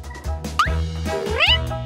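A small cat gives a couple of short, rising meows, close by, with quiet room noise in between.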